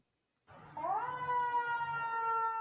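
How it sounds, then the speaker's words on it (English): Air raid siren winding up and then holding a steady wailing tone, loud and continuous, with no talk over it. "Why are there air raid sirens?"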